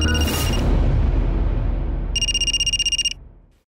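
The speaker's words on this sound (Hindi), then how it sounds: "अरे उन्हीं का फोन है।" A telephone rings once, a short rapid trilling burst of electronic bell tone that cuts off cleanly, following a dull low thump and fading room noise.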